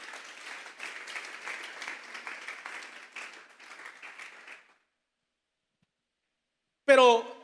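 A church congregation gives a round of applause during a sermon, moderate clapping for about four and a half seconds, then silence before a brief voice starts speaking.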